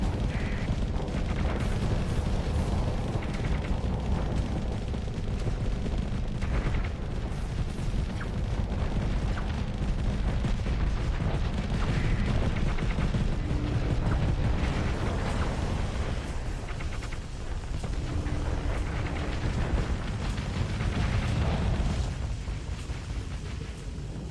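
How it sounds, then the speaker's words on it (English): Heavy space-combat barrage in Starsector with Nova Cannon impacts and torpedo blasts, a dense, continuous wall of rumbling booms and crackling hits that swells and ebbs across the whole stretch. "Hey, hit with the Nova Cannon."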